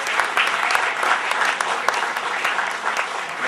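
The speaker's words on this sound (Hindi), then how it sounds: "जोरदार ताली" Loud, dense applause from a crowd at an Independence Day function held at a studio, honoring a senior radio and TV artist, sustained and steady for its whole length.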